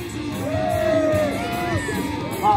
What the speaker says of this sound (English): all the way to the top of the trailer where the crowd are going to cheer like this!